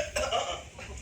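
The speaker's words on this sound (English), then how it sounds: "are you coughing?" A single short cough from a person nearby, one quick throaty burst lasting under a second.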